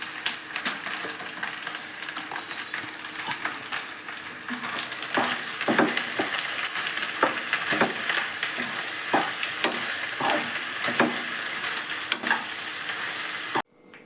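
Spicy veg pasta stirred in a pan with an extra seasoning packet, a continuous frying sizzle broken by repeated sharp spoon scrapes against the metal, close and fairly loud with no talk.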